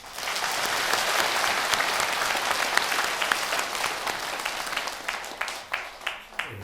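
An audience at a temple Sunday dharma gathering applauds, a dense sustained clapping that thins out into a few scattered, separate claps at the end.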